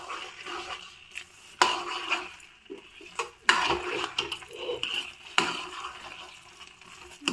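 Spoon scraping and stirring carrot halwa cooking in melted ghee in a pan, with repeated sharp clinks and scrapes against the metal over a soft continuous sizzle and no talking.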